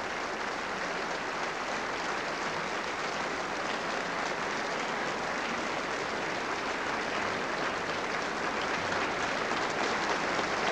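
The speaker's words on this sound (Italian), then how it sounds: "here to acknowledge the applause at the Palace Theatre Manchester after the first act of Verdi's Otello are Carlo Cossutta and Stefka, Estatieva." A theatre audience at the Palace Theatre Manchester applauds steadily after the first act of Verdi's opera Otello, a dense, even wash of clapping hands that holds without pause, with no voices heard.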